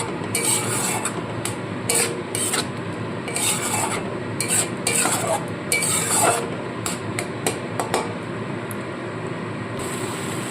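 Spiced masala sautéed with a splash of water for a pumpkin and potato ghugni, heard as repeated scraping stirs of a spatula against a pan over a low bubbling sizzle, close and uneven.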